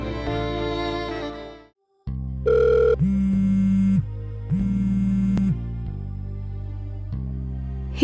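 An incoming call sets a telephone ringing in a repeating electronic ring pattern, loud and close, with a brief dropout early on and no voices over it.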